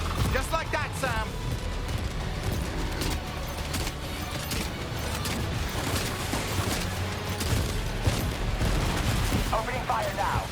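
Gunfire in the video game Death Stranding 2: a dense, sustained battle din of overlapping shots and booms, steady and moderately loud throughout, with voices calling out over it.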